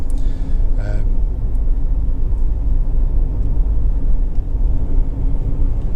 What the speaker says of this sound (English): engine starts absolutely instantly. It settles to completely smooth, even idle.